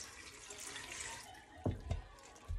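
Tap water runs into an Instant Pot pot, a soft hissing stream that fills the sink area for over a second, followed by a few louder knocks and clunks near the end.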